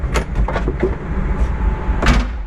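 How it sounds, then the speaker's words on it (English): Door openers on a Ferrari 360 Challenge Stradale Spider being worked, giving a run of crisp mechanical clicks and latch snaps close up, ending in a louder clunk, with a low hum underneath and no talk. "Here's our Stradale door openers."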